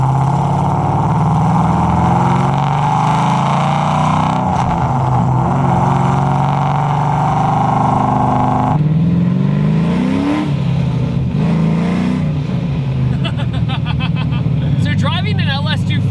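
A Nissan 240SX S14 with a swapped LS V8 engine driving, a loud steady engine drone inside the cabin that rises and shifts pitch with gear changes, with people talking over it.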